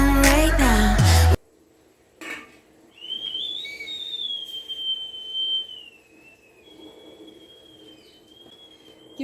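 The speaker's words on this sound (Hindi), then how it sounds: "कितनी अच्छी आवाज़ आ रही है ना सिटी में से।" A steel idli steamer whistles through its steam vent, a thin steady tone that rises, wavers and settles, sounding alone and fairly loud after a brief burst of music at the start.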